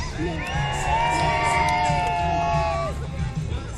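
A crowd at a monster truck show cheers, whoops and shouts for the Slingshot truck, with shrill voices and children's cries over a steady roar of babble, all at mid distance.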